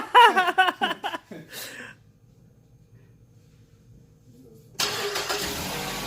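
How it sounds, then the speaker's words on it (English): A Mazda3 engine cranks and fires after some early voices, then settles into a steady, fairly loud idle that fills the end of the clip. "you just started the car"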